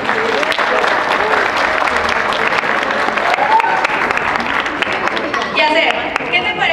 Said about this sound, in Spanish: Haz el aplauso.